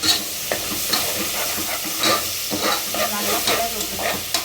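Tomatoes with salt frying in a pan, stirred with repeated scraping strokes over a steady close sizzle, no voices.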